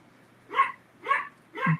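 Bindi, a tiny five-pound dog, gives three sharp yapping barks spaced about half a second apart, fairly close and clear with no talking over them.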